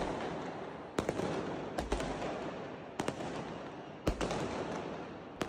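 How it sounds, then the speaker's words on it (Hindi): Diwali firecrackers bursting in a Noida housing society at night, a steady crackling roar with several sharp, loud bangs standing out at irregular intervals. "सुप्रीम कोर्ट द्वारा कंप्लीट बैन के बावजूद दिल्ली NCR में दिवाली के दिन पटाखे फोड़े गए"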